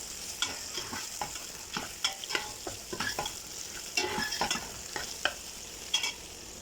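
Vegetables tipped into a pan with hilsa fish, potato and eggplant, sizzling with repeated scraping stirs and clinks at close range, no voices over it.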